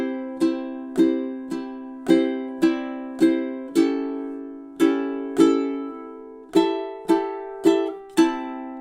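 A ukulele plays measures 10 and 11 of a song as a steady run of about fifteen crisp strummed chords, close and clear, with a short pause midway and a change of chord partway through.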